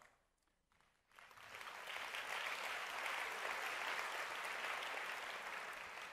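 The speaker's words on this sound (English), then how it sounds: "I never thought I'd get applause for encryption" A conference keynote audience bursts into applause after a moment of quiet, the clapping swelling quickly and holding as a broad, steady roar from a large hall.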